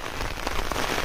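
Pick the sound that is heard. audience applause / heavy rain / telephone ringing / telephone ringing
heavy rain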